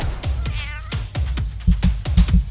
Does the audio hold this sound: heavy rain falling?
no